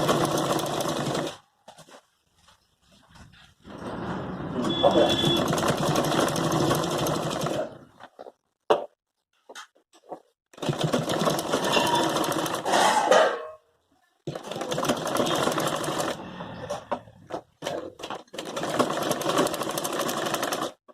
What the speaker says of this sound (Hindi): इस तरीके से मैं इसको इसके ऊपर रखते हुए यहाँ से मैं इस पर सिलाई लगाना स्टार्ट करूंगी।